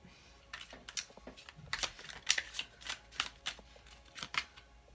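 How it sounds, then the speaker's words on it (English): Oracle cards are shuffled by hand at close range, with a quick series of crisp riffling bursts and soft flicks in an uneven rhythm, no voices over them. "I'm going to pull some oracle cards too, guys"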